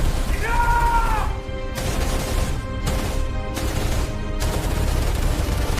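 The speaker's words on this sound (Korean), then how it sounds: "그리고 그 찰나의 혼란이 거치기도 전에 총성이 터졌습니다." Gunshots go off at a rural funeral house in 1982, fired by a police officer: a rapid burst of several loud, sharp cracks in irregular succession over a dense, noisy background, with brief tonal ringing at the start.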